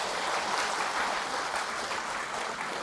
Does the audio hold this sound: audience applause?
yes